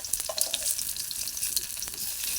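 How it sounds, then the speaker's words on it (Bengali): Stuffed teasel gourd (kakrol) frying in oil, a soft, steady close sizzle with small crackles and bubbling spits, fairly quiet and continuous. "তারপর ভালোভাবে ভাজা হয়ে গেলে নামিয়ে নেবে।"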